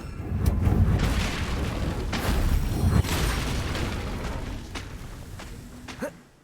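A Confringo fire-blast spell from Hogwarts Legacy erupts as a loud, rumbling explosion right at the start, its roar slowly fading over several seconds before a small impact near the end.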